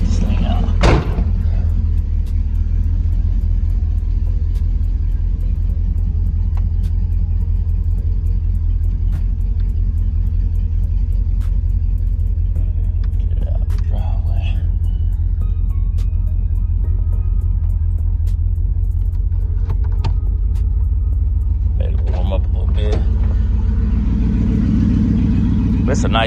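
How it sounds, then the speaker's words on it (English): A car with a worn left motor mount rumbling steadily from inside the cabin while driving, a deep continuous low drone with occasional clunks and rattles, swelling slightly near the end. "we definitely gonna go out and drive this car"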